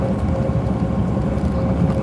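A car engine with dual exhaust idles with a low, throaty rumble and a steady hum, continuous and fairly close.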